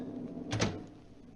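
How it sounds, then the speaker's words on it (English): A single door is shut for a radio drama ghost story set in a room with wind outside, one short thud with a brief rattle, close and clear over a low background hum. "Then, for heaven's sake, shut the door."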